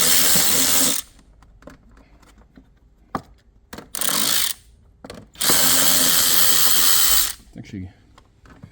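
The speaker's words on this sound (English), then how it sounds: "we're going to undo this airbox lid." A power tool undoes the airbox lid bolts on a U40 Toyota Kluger with a 3.5L 2GR-FE petrol engine, whirring loudly in three bursts separated by quieter gaps with faint clicks.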